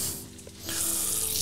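Tap water running into a saucepan for cooking green beans in a kitchen, the flow starting softly and then gushing into a steady, close, bright splash.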